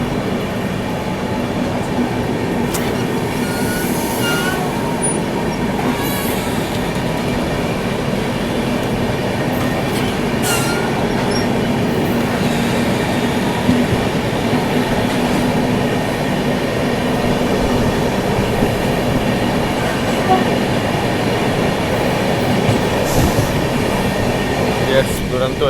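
The Howrah Duronto 12222 express with LHB coaches rolls past in a steady, loud rumble with rhythmic clickety-clack of wheels on rail joints, sustained throughout with faint metallic squeals.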